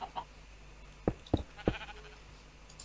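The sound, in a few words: sheep bleating in the video game Minecraft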